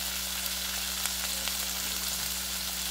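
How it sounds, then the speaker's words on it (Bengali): Cut radish and potato frying in a pan make a steady, faint sizzle over a constant low electrical hum, with a few light ticks from stirring and no voices. "এবারে দেব কেটে রাখা মূলো, একটু ভেজে নেব।"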